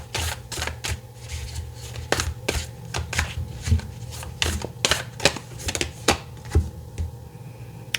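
Tarot cards being shuffled by hand, a rapid string of crisp flicks and riffles with sharp taps as cards are drawn and laid down, close and fairly loud with no talk.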